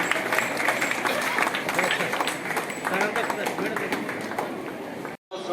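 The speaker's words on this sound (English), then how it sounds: "Big round of applause to that we are going to inaugurate Jaya Srishti now." A crowd claps steadily at a school science fair inauguration, a dense patter of hands under chatter, breaking off briefly near the end.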